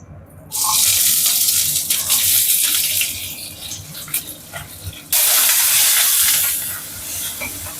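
Chopped onions dropped into hot sesame oil with fenugreek and mustard seeds to temper a tamarind kuzhambu. They give a loud, steady sizzling hiss that surges again partway through, close by, with no talk.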